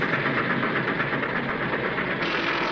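A train rumbles steadily along the rails, a dense, continuous roar with a faint rhythmic clatter, loud and close throughout.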